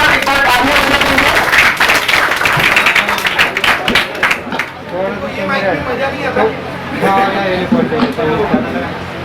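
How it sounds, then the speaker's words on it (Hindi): Applause and clapping from an audience rise loudly at first, then fade into crowd chatter and a talking voice. "तो एक बार आप सब लोगों के लिए जोरदार एक बार तालियां बजा देंगे."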